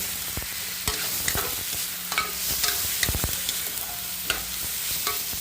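Cauliflower and corn stir-fried for chopsuey give a continuous sizzle broken by repeated sharp spatula scrapes and knocks against the pan, close and without talk.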